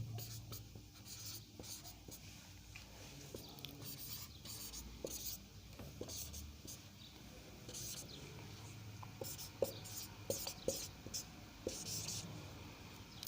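Pen or pencil writing numbers by hand on paper during a primary-school maths lesson, a soft steady scratching with small taps, close and faint, with no talk over it.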